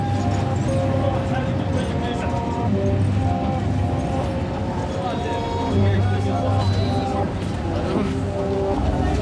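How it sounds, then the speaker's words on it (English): A desert train rumbles across the Sahara, a steady, dense low roar with rhythmic clatter throughout, and voices murmuring faintly beneath the continuous noise. "C'est le train du Sahara, ça."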